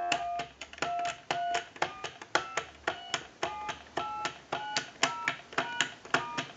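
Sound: telephone dial tone and dialing of numbers

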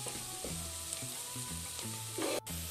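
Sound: vegetables frying in a pan

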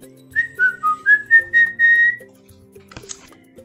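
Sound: person whistling

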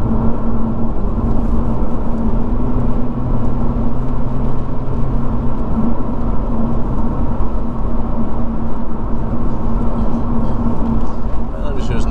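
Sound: Lotus Evora car driving along a fast road

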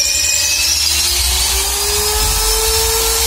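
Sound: drilling and hammering wood

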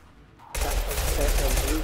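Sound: gunfire in a firefight, from the video game Mass Effect 2

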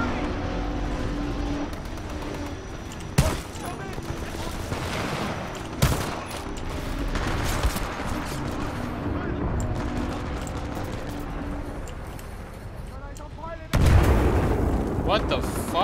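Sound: machine gun pistol gunfire in video game Titanfall 2

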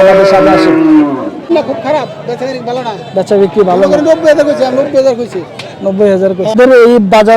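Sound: cattle at a bull market

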